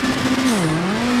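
A WRC 7 rally car slides through a handbrake turn at Monte Carlo, its engine tone sagging and recovering under a continuous loud tire skid.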